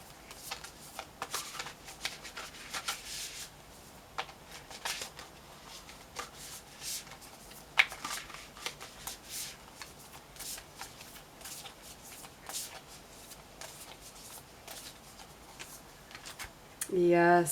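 Tarot cards shuffled by hand, a soft, continuous papery riffling and flicking that runs throughout while someone talks over it.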